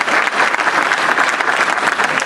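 Sustained, dense audience applause fills a hall at an award ceremony, loud and even throughout the short stretch with no pauses.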